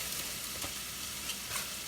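Caramelized vegetables and browned chicken sizzle steadily in a hot pan while being stirred, a constant close hiss with a few faint scrapes and pops over the short stretch.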